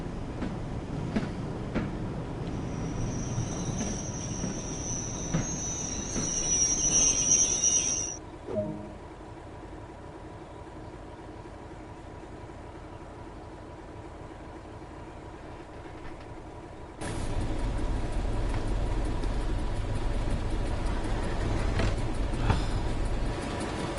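In Train Sim World, a Class 31 diesel locomotive's air compressor kicks in as a loud, steady low rumble that runs continuously to the end, following a quieter idling stretch and an earlier high whine.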